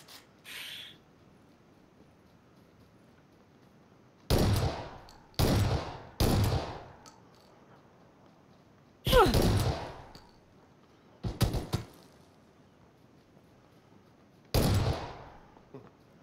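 Several sharp gunshots ring out singly and in quick pairs, separated by stretches of quiet, with one short burst of rapid fire.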